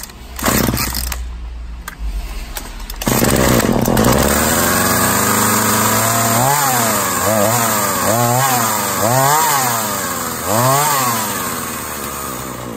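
Chainsaw that runs poorly, won't hold its adjustment and starts hard, sputtering and rising and falling in pitch through several uneven revs before settling into a rough, loud, near idle, with no talk.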